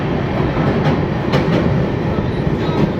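The Sairang Express crosses the Nasipur rail bridge over the Bhagirathi River, heard from on board as a loud, dense, continuous roar with rattling wheels and no voices.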